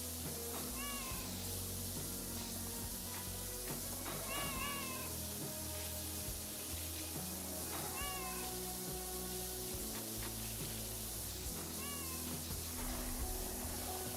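Cats meow in a pressure-washing video game, a few short, high cries spaced several seconds apart over a loud, continuous spray hiss and a steady background of game music.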